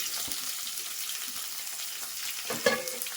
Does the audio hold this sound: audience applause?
no